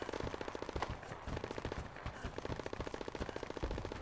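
Gunfire from a bug enemy in the video game Starship Troopers: Extermination comes as rapid, fairly quiet bursts of repeated shots with brief gaps between volleys.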